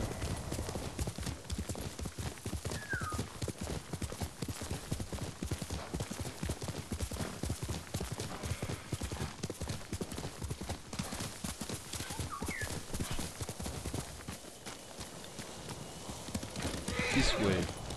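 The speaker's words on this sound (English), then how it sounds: "Fell off the horse." In Ghost of Tsushima, a horse gallops with rapid continuous hoofbeats and whinnies partway through, and a player talks over the action.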